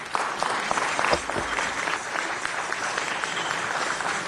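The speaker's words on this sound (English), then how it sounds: "Let's give them a big round of applause." Audience applause at a city council meeting after a gourd music ensemble, the Golden State Gourd Society, performs: a steady wash of many hands clapping in a chamber, moderately loud and continuous throughout, with a few louder claps early.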